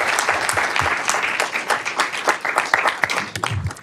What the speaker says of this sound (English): let's give a round of applause to our panelists for their great contributions